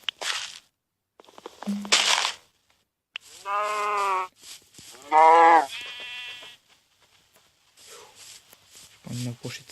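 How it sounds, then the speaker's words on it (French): Two short, drawn-out moos from a cow in Minecraft sound close by, separated by a brief pause, amid scattered footsteps and other in-game noises. "J'ai vu une belle vache."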